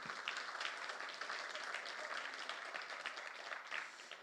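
At a policy forum on greenbelt management, an audience gives dense, steady applause that fills the room for several seconds.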